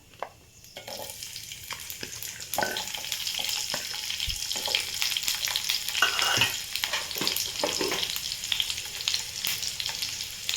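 Chopped onion drops into hot oil with bloomed cumin seeds and bursts into a loud, steady sizzle, with scraping stirs and clinks of a spoon against the pan rising over the crackle. No one speaks.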